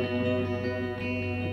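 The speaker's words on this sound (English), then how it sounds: "Have a little bit of echo going on my sound" Quiet finger-picked guitar pattern on the first and second strings, run through an echo effect, with sustained ringing tones that blend and repeat steadily throughout.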